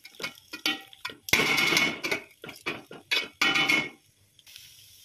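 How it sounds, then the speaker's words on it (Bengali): Pepper pulao of rice stirred in a pan on medium heat: a series of close, irregular metallic scrapes and clinks of the spoon against the pan, some brief and some drawn out, ending in quiet. "আরেকটু নেড়ে চেড়ে নিয়ে"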